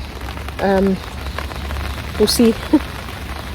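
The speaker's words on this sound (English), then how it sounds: "It sounds like the rain's coming on, which is nice." Rain patters steadily on a tarp shelter at a woodland campsite, a soft continuous hiss heard close, while someone speaks briefly over it.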